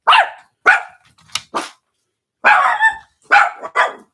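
A dog barking indoors, loud and close, several sharp separate barks in two bursts with a short pause between, no talk.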